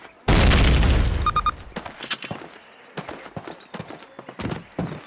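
Grenade blasts in a Call of Duty training level: one loud, long booming explosion, then a string of shorter, quieter bangs and debris bursts trailing off.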